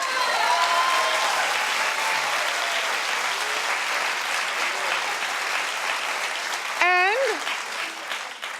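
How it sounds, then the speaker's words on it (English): Studio audience at a daytime talk show breaks into loud, dense applause that holds steady throughout, with brief whoops and voices rising over the clapping. "clap if you're with me."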